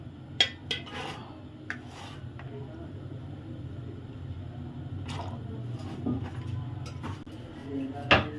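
Boiled chickpeas tipped into a juicer blender jar in a home kitchen: a few sharp clinks and soft thuds of a spoon against the jar over a low background hum, close and intermittent.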